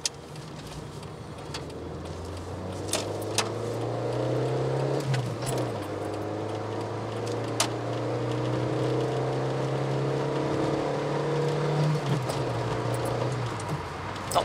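A Peugeot 205 running on ethanol accelerates from inside the cabin, its engine note rising through the revs, easing off around the shift, then climbing again with a steady droning hum.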